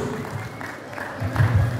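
Applause from an audience at a beauty queen election event in Yutsu, Palora, as an official is welcomed: scattered clapping that thickens and grows louder toward the end, heard close with crowd murmur.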